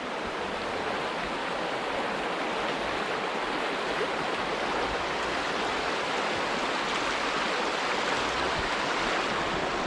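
The Kings River flows as a dense, steady roar of rushing water, loud and close, unbroken throughout with no voices.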